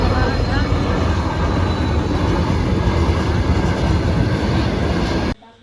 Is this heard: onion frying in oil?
no